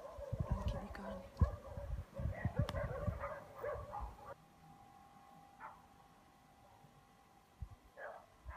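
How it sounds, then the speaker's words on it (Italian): Roughly twenty stray dogs bark and howl in a pack at 4 a.m. on a July night on Lipari, a burst of overlapping barks in the first half, then scattered yips and a thin sustained howl over quieter background. "ci sono una ventina di cani randagi che danno la buonanotte un po' a tutti"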